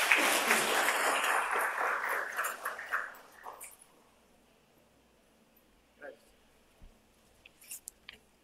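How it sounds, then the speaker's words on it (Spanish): Listeners at a law lecture hosted by Universidad San Martín de Porres give warm applause to welcome the speaker. The clapping is full for about three seconds, then thins out into quiet with a few faint scattered sounds. "quisiera que lo recibamos con un fuerte aplauso como bienvenida."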